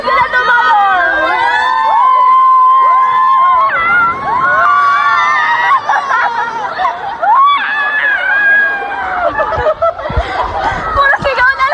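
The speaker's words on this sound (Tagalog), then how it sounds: "Puro sigaw na lang." A lively group of people, children among them, shouts, cheers and laughs loudly and continuously at close range, their voices overlapping in a dense, excited din.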